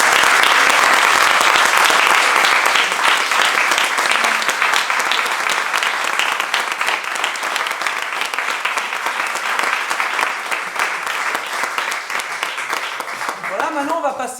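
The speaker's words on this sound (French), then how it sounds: "on t'applaudit vraiment beaucoup" Loud, sustained audience applause for a departing guest, dense clapping that gradually thins over about fourteen seconds before a voice begins speaking at the end.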